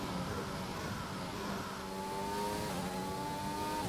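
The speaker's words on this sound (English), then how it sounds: "Trying to punch the throttle on the way out." Race car engine in the F1 2021 video game, revving up steadily as the car accelerates out of a corner, a loud continuous whine with rising harmonic tones throughout.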